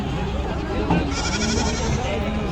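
Sheep and goats bleat at a livestock market during unloading, several overlapping calls rising over a steady crowd murmur and background chatter, fairly close and continuous.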